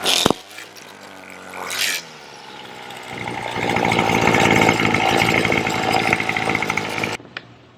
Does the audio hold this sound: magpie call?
no